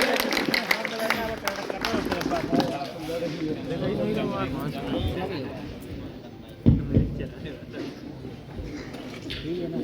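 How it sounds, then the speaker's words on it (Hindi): An audience at a patriotic poetry gathering for Martyrs' Day claps in a dense, sustained round of applause. The clapping is loud and steady at first, then thins, and a voice talks over it throughout. "जरा दोनों हाथ उठाकर तालियां बजाकर आसानी करे भाई"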